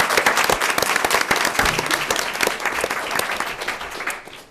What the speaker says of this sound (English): a round of applause for Sandy Chicker